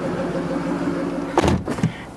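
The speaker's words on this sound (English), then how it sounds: "Go ahead and close the door." Over the idling 2012 Ford Shelby GT500, its car door shuts with a solid thud, followed shortly by a softer second knock, close and brief.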